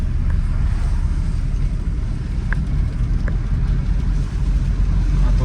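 From inside a Tata Punch in 4th gear during an overtake, a steady engine and road drone carries on throughout, with a couple of faint clicks and no voices.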